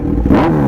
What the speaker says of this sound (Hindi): अलियान थ्रॉटल देना, एक बार थ्रॉटल देना।